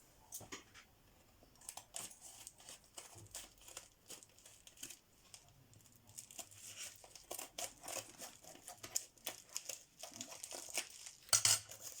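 A padded envelope is cut open and handled, giving quiet, close paper crinkling and rustling in irregular bursts, with a few sharper snips and rattles, no talking.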